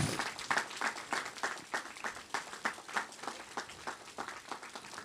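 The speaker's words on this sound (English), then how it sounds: "Please stand and give a round of applause for your biggest supporters" A faint round of applause from a college commencement audience: scattered, fairly regular hand claps at a distance, thin rather than a full roar.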